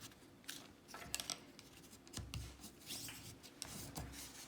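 Paper being folded by hand into a pocket card holder, soft close creasing and scraping with faint rustles and a few light taps, quiet and intermittent.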